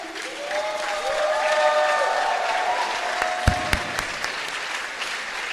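A church congregation at an evening retreat session claps together, a broad steady wash of applause that swells, then thins to a few scattered claps near the end.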